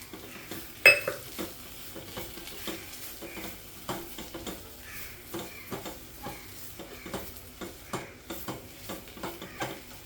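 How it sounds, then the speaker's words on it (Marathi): A spoon stirs semolina sheera with dry fruits and raisins in a pan, rhythmic scraping and soft clinks repeating every second or so over a faint background sizzle, close with no voices. "आता हे ड्रायफ्रूट टाकायचे."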